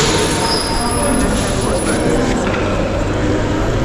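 Loud, continuous rumble of a train at a railway station in Constanța, with high wheel squeal running over it, close by and steady throughout.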